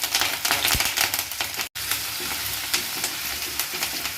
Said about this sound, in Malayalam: ഓയിൽ നന്നായി ചൂടായി വരുമ്പോൾ അതിലേക്ക് നമുക്ക് അരിഞ്ഞു വെച്ചിരിക്കുന്ന ഇഞ്ചിയും വെളുത്തുള്ളിയും പച്ചമുളകും കറിവേപ്പിലയും എല്ലാം ചേർത്ത് കൊടുക്കാം